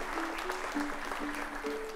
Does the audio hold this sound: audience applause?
yes